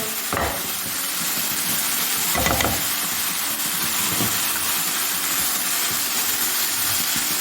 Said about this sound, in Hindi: अच्छी तरह इन्हें भून लेंगे।